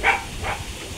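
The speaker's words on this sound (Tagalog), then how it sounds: "yung aso ng kabila." Two distant dog barks, the first sharper, the second fainter, over a low outdoor rumble.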